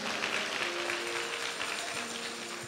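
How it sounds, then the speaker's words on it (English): A church congregation claps in praise during an Easter Sunday service, a dense, steady wash of many hands applauding together throughout, fairly loud and sustained without pause. "give the Lord a hand clap of praise one more time"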